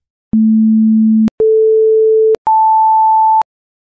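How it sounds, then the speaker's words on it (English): A synthesizer in Bitwig Studio plays three clean, pure tones one after another, each held for about a second and each pitched higher than the last, with short silent gaps between them and no talking. "you can actually see how that wave changes from a sine wave"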